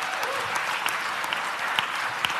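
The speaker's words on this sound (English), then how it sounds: "can we offer a clap offering to the Lord?" A congregation claps during a Mass for the Feast of the Santo Niño, a steady spread of many hands with a few sharper claps popping out, moderately loud and continuous with no talking over it.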